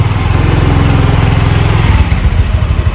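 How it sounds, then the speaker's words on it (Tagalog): A motorcycle engine idles close by, steady low rumbling pulses throughout with a slight shift near the end. "So, pinapasok niya yung motor niya dito."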